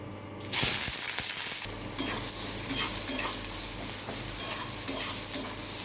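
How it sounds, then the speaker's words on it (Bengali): Chopped onions drop onto hot tempering spices of cardamom, cloves, cinnamon, bay leaf and nigella in a pan, with a loud burst of sizzling that settles into steady frying and rhythmic spatula scrapes, close up with no voices. "ফোড়নটা হয়ে গেছে, এবার পেঁয়াজগুলো দিয়ে দেবো।"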